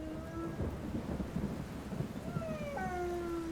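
Heavy rain pours steadily while low thunder rumbles through it, and long wailing tones of dogs howling rise and fall above the downpour.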